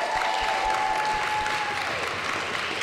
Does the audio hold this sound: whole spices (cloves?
no